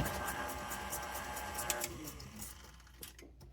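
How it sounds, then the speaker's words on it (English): An electric mixer beats ice cream sandwich dough with a steady, close motor whir that thins out and quiets toward the end. "put this on my mixer, and mix it up"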